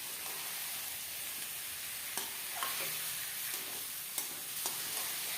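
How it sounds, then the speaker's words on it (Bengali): Mutton frying in a pan with onion, garlic and ginger, a steady hiss broken by a few scraping stirs with no talk. "মাংসটা দেওয়ার পর আমি এখানে মাংসটা খুব ভালো করে লাড়ি চাড়ি ভাজি নেব।"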